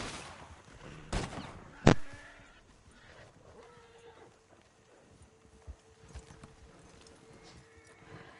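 A horse's hooves clip-clop in a PS5 video game, soft and sparse beneath game ambience, preceded by two sharp loud cracks, with a faint voice at times.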